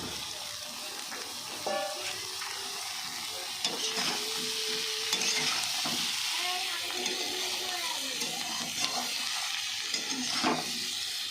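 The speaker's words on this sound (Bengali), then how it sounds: "আলুটা হয়ে গেছে, সোয়াবিনটা দিয়ে দিই" Soybean chunks tumble into a pan of frying potato curry, a steady broadband sizzle with scraping stirs and occasional clinks of a spoon against the pot, fairly close and continuous.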